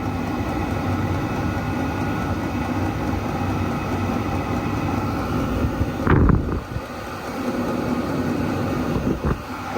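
A Chinese diesel heater set up in a workshop runs after starting, producing a steady mechanical drone and whir with a brief louder burst partway through before settling back into its even hum.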